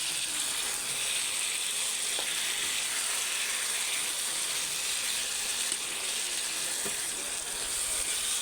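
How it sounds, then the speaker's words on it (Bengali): Fish innards sizzle softly in a spice paste in a pan, a low continuous frying hiss broken by a couple of small clicks and taps, with no talking. "আগে মশলাগুলো কষি এখন মাছের নাড়িগুলো দিয়ে দিচ্ছি"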